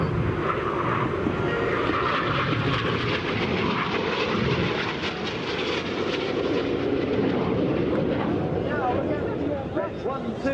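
Red Arrows RAF jet aircraft performing at the 2015 Sanicole Air Show, a loud continuous roar of engines pulling high G through a crossing manoeuvre, with a broad rumbling wash throughout and faint crowd or commentary underneath.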